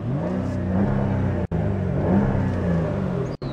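A small tractor engine revs steadily and loudly up close, its mid-range drone rising and falling with throttle, broken by two brief dropouts.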